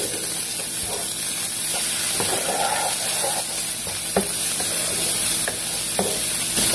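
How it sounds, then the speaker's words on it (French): Chopped garlic and onions fry in oil in a pan, giving a steady hissing sizzle up close with occasional clicks and scrapes from stirring. "Dans l'ail là, je vais mettre des oignons là-dedans."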